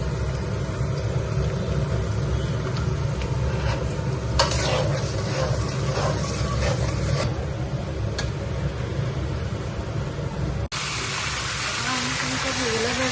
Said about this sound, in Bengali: ওই তেলে আমি ফুলকপিগুলো ভেজে নিচ্ছি